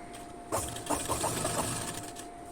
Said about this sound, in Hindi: बस इस तरीके से हमें इसके एज पे स्टिच लगानी है, जो कैनवास वाला पोर्शन है वो कपड़े पे।